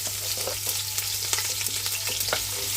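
Chopped onions and garlic sauté in a hot pan, a continuous close sizzle with scattered pops and sharp clicks as they are stirred, over a low steady hum from the kitchen.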